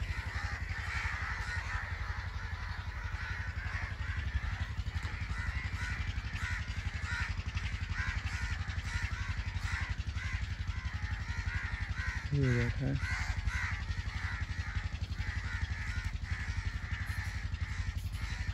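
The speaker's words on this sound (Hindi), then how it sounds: "कौवे और चीले चेक करें।" Crows caw repeatedly outdoors, harsh calls scattered through a noisy, steady background with a person talking at times.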